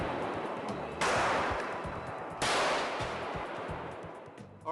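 Two loud bullet test fires from a rifle set up with a simultaneous release system, each a sharp crack with a long decaying tail, spaced a little over a second apart with no talk.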